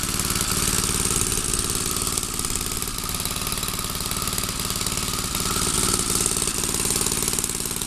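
A 1936 Loke mower with a Briggs and Stratton engine running steadily, a rapid, even, rattly putter with a bright hissing exhaust, close and loud throughout with no talking.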